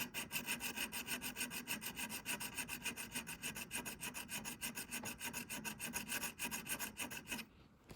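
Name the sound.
sharpening Forstner drill bit teeth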